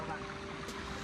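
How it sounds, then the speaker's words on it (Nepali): A mountain stream near a hillside village temple site, with a steady, broad rushing of running water close by that fills the whole brief moment, and a voice faintly over it. "यस्तो यहाँ चाहिँ यस्तो गाड हुन्छ।"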